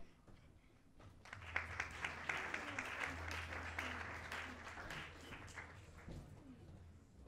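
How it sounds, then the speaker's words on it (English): An audience at a business awards ceremony breaks into applause that swells after a quiet start, with a few sharp individual claps standing out over a low hum and a faint voice. "A round of applause, ladies and gentlemen."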